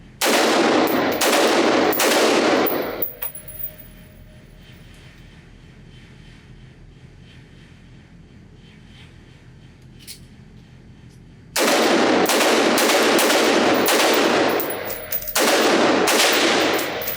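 Loud, rapid rifle shots ring out in fast bursts at an outdoor shooting range, firing a rifle fitted with a Feyachi WL25 weapon light, with a long quiet gap between the opening and closing volleys.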